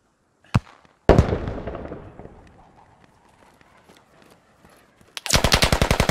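AK rifle gunfire in the tactical shooter game Squad: a single sharp shot, a loud booming burst with a long decaying echo, scattered faint distant pops, then a rapid close automatic burst at the end.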